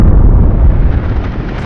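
A loud, deep rumbling blast from a volcanic eruption in Africa that rolls on as a sustained low roar, heavy and booming with no voices.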